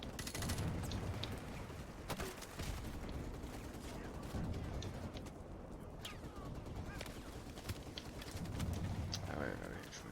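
Gunfire crackles through a Call of Duty Modern Warfare Remastered campaign mission as bursts and scattered shots under busy game ambience, moderately loud, with a voice talking over it.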